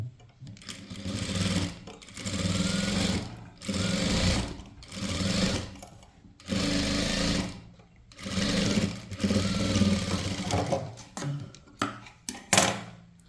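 A domestic sewing machine stitches a blouse in long steady bursts of rapid whirring, separated by short pauses, loud and close with no talking.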